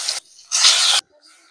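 Fish dropped into hot oil in a home kitchen, giving two sharp bursts of loud sizzling spatter with a short quieter gap between them, then a fainter hiss as the frying settles.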